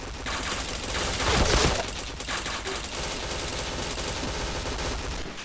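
Rapid bursts of automatic gunfire from a shooter video game crackle densely and continuously, peaking in a louder volley midway, with no talk over them.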